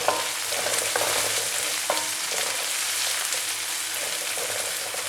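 Onions and dried chillies sauté on high heat for masala Maggi noodles, a loud dense sizzle with a few spatula knocks and scrapes near the start, close and without talk.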